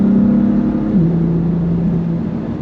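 BMW M4 fitted with a titanium exhaust accelerating with the window up, a loud, steady engine drone that climbs in pitch, dips briefly as it shifts, then climbs again, heard close from inside the car.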